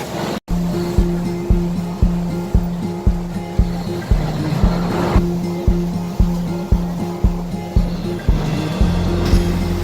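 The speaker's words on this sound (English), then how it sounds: "we're on some sort of weird water taxi. It's awesome. It's also really, really rough." A river water taxi's motorboat engine hums under repeated rhythmic thumps as the hull slaps choppy water in Bangkok, with waves splashing throughout.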